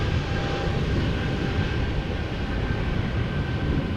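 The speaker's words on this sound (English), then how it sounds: "A320neo going to Glasgow." Airbus A320neo engines at Amsterdam Schiphol Airport, a loud continuous low roar with a faint steady whine, close and unbroken throughout.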